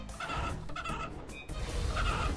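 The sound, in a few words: evil chicken clucking in RuneScape 3, video game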